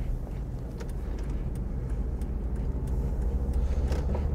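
Car cruising at speed on the A256 dual carriageway between Whitfield and Sandwich, heard from inside as a steady low engine and road rumble with constant tyre roar, no talking.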